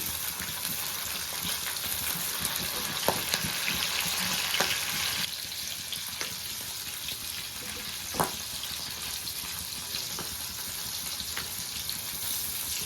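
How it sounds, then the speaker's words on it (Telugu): Green chillies frying in a pan for a mango coconut chutney, a steady moderate hiss like running water with a few light clicks of utensils, no voices. "ఇవి వేగిన తర్వాత పచ్చి కొబ్బరి వేయించుకుందాము."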